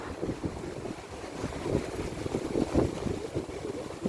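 Strong wind buffets the microphone in gusty, uneven bursts, a rough low rumble with no voices.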